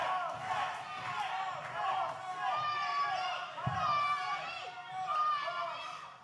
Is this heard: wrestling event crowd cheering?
yes